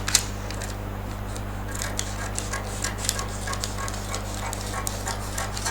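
Scissors snip repeatedly through a paper bustier sewing pattern up close, a steady series of crisp cuts over a constant low electrical hum.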